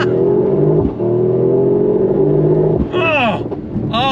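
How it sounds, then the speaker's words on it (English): A 2024 Mercedes-AMG GT 63 Coupe with bi-turbo V8 and all-wheel drive launches from a standstill, its engine roaring loud and close, rising sharply through revs with quick upshifts near the end. "we need to go on throttle from a dead stop"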